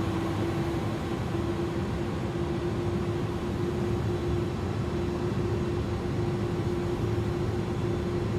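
Simulated UPS Airbus A300-600RF cargo jet on its takeoff run, giving a steady, loud engine roar with a constant low tone held throughout and no talking.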